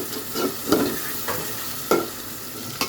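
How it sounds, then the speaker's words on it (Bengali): Fish and onion fry in oil with a dense, constant sizzle, broken by a few soft spatula scrapes and taps as the pieces are stirred. "তেলের মধ্যে একটু ভালোভাবে কিছুক্ষণ কষাইতে হবে ভাজা ভাজা করে নিতে হবে"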